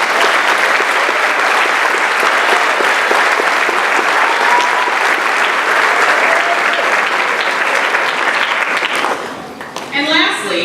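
Graduation audience at a high school ceremony applauding loudly and continuously for about nine seconds, dense clapping that then fades as a voice begins to speak.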